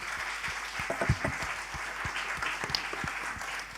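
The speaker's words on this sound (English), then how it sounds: "let's give a round of applause to the speakers today" Applause from a conference audience for the day's speakers, a moderate, scattered patter of clapping hands at some distance, steady for several seconds.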